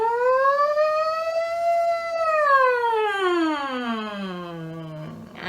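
Voices imitate a siren in a singing-for-dementia group session, one long rising-and-falling sung wail sliding smoothly up, holding, then sweeping down low, clear and close with no talk.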